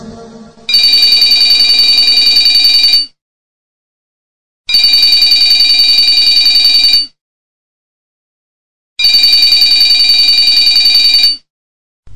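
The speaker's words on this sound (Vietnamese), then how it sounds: "Tiếng chuông điện thoại dồn dập vang lên" A telephone bell rings insistently in three long bursts of about two seconds each, separated by short silences, loud and close with a bright electronic trill.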